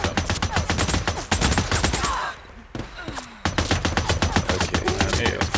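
Rapid bursts of gunfire from the video game Days Gone, loud automatic volleys in two dense stretches separated by a brief quieter pause, with no talking.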